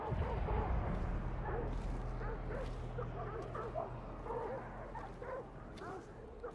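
Dogs bark and yip in the video game Hunt: Showdown, a steady cluster of short barks and whimpers mixed with background noise and a low hum, under talk.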